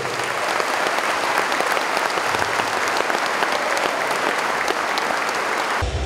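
Loud, sustained crowd applause at the installation ceremony of a municipal council in Xochiapulco, dense clapping from many hands continuing evenly for several seconds without speech.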